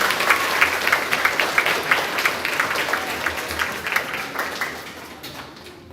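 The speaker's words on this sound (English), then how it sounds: "Give them one more round of applause." Students and teachers at a grades 4–6 school awards assembly give a round of applause, a fairly quiet, steady patter of many hands that thins and fades toward the end.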